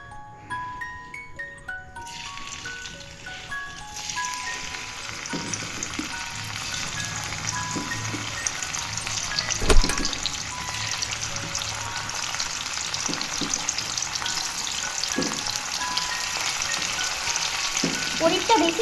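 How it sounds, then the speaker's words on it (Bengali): Paneer pieces fry in a little oil in a wok, a steady bright sizzle building after a quiet start, with occasional clinks and stirring scrapes close by. "কড়ায় তেল দিয়ে অল্প পরিমাণ তেল দিয়ে পনিরটাকে আমি ভেজে নেব।"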